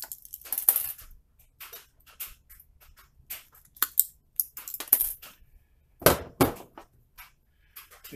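Pliers cut wire short while making a wire scorpion, giving a series of sharp, close metallic snips and clicks spaced irregularly through a quiet background with no talk.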